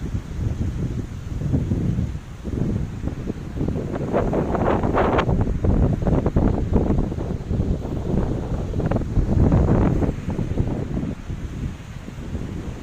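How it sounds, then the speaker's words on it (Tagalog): Steady seaside wind buffets the microphone with low rumbling gusts, swelling and easing over several seconds, with faint rustling in the background. "Baliktad na hangin."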